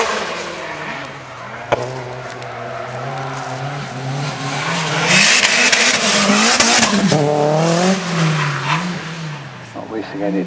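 A Ford Focus charges up the Fintray hillclimb course, its engine revving and shifting through gears with tyres squealing, loud and fairly close, while a commentator talks over the sound.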